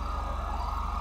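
Police vehicle sirens in a video game crime scene mod, a loud steady wail filling the whole moment with no talk.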